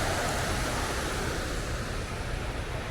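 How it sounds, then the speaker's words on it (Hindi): Water falls at the entrance of NTR Garden in Hyderabad, a steady broad rushing splash heard close and continuous with no talk. "क्योंकि पानी नीचे गिर रहा है और आवाज़"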